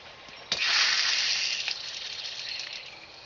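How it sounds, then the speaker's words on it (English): Water hissing and spraying from a leaking sillcock hose bib threaded onto a black steel pipe, a sudden onset followed by a steady, fairly loud rush that tapers slightly, with no talking. "it just won't stop leaking"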